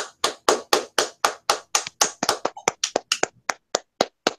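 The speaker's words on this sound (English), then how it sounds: "Round of applause for the 97 of Justin Haley, finishing in ninth." Steady clapping of a single pair of hands, about four claps per second, close and crisp, with a couple of uneven claps midway.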